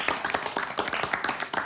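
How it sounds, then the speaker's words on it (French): A small audience claps in appreciation: a short run of rhythmic, fairly soft handclaps from a handful of people, steady and close, with no voices over it. "vous pouvez l'applaudir, vous pouvez l'applaudir"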